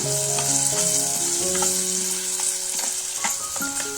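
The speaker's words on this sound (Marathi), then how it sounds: "आता ह्या वाटाप 2 मिनिटं तेलात आपण भाजून घेऊया।" Roasted Malvani masala paste fries in oil for dal, a loud continuous sizzle with stirring scrapes and clinks of a spoon against the pan, no talking.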